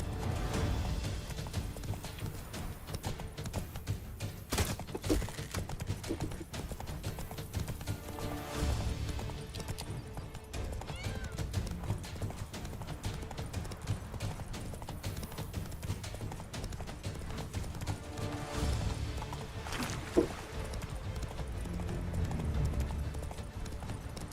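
In The Witcher 3 video game, the horse Roach gallops steadily with continuous clip-clop hoofbeats under game background sound at moderate level, with a brief louder knock near the end.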